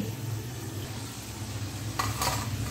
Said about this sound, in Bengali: আর এই একই রকম করে কিন্তু সবগুলোই ভেজে নিতে হবে।